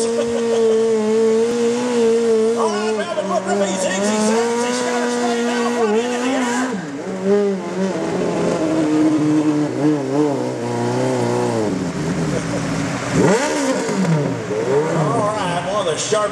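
Loud engines rev and roar continuously, pitch rising and falling as they accelerate, with the throttle surging repeatedly throughout.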